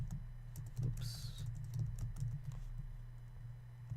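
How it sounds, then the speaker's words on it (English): Rapid, uneven clicks of a computer keyboard during programming work, fairly close and quiet, with a steady low hum underneath throughout. "Why am I typing this out?"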